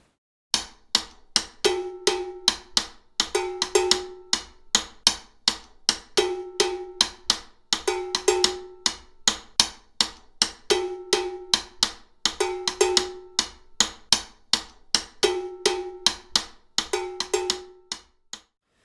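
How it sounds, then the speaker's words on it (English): A low-pitched cowbell and the rim of a small tom are played together in a steady repeating drum-kit pattern, crisp close clicks and metallic clanks in a tight groove that runs throughout. "I'll play the rim of my small tom, and then of course I'll play this cowbell over here"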